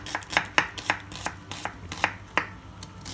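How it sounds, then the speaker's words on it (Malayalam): An onion is sliced with a knife on a board in a steady series of crisp, close chopping strokes, about three per second, with no voices. "ആദ്യം തന്നെ നമുക്ക് ഉള്ളി സ്ലൈസാക്കി ഇടുക"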